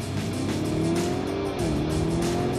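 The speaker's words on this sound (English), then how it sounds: "Put it into sport and now you're talking. You've got sharper responses, an angrier exhaust, harder gear shifts." A 2023 Lamborghini Urus Performante's engine and exhaust in Corsa mode roar loud and steady, with a continuous harsh growl whose pitch dips briefly as a gear shift happens, heard close with no talk.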